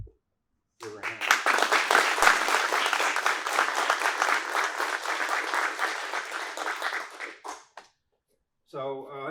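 An audience claps at a black belt martial arts test, giving steady, dense applause for about seven seconds before it fades, and then a voice briefly speaks.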